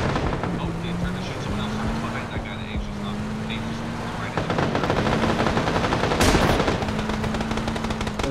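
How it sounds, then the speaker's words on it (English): Gunfire in the game PLAYERUNKNOWN'S BATTLEGROUNDS, rapid rattling shots running through most of the stretch with a louder burst near the end, over a steady engine-like hum and background game noise. "You're shooting at people on the other hill"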